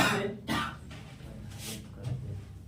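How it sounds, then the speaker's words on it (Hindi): A few sharp coughs and throat-clearing sounds arrive in separate bursts, close by, with faint murmuring between them. "तो लगातार खांसी आ रही है"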